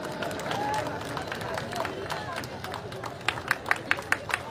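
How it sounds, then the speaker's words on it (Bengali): Claps ring out from a crowd at a police-organised marathon finish in Balurghat, starting faint amid outdoor chatter and footsteps, then a quick run of six sharp, evenly spaced claps close by near the end. "আরে জোরে হাততালি।"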